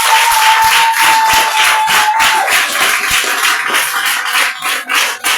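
Congregation clapping during a worship service at a church in Lomé, Togo: dense, loud, sustained applause from a crowd, with a faint held tone underneath, thinning slightly toward the end.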